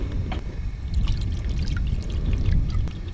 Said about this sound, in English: You have to cover it with water.